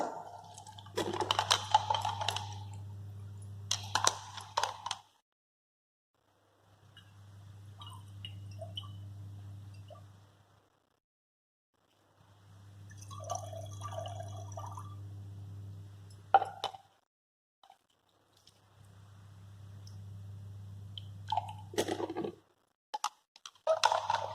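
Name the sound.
rinsing a beaker and collecting washings into a volumetric flask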